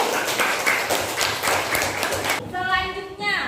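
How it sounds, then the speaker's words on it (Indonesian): An audience claps for a group in a classroom-style session, a dense burst of applause for over two seconds that stops abruptly, followed by a voice speaking. "Beri tepuk tangan untuk kelompok."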